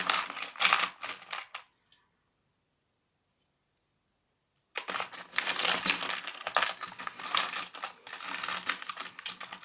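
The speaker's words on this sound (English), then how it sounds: "Not convenient to shuffle charms quietly." Small metal charms jingle and clink in bursts as they are shuffled, a busy rattling shuffle that stops for a couple of seconds of silence, then resumes steadily.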